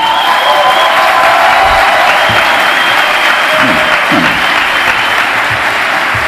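A comedy audience gives a loud, sustained round of applause for a comedian, a thick, close roar of clapping mixed with some cheering and brief voices underneath.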